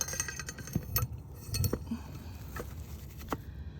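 Glass tiles clink softly as they are moved by hand during bathroom tiling, with a few light taps and clicks scattered over quiet room noise.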